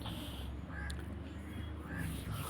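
Crows caw outdoors near a garden, a couple of short calls rising over steady background noise.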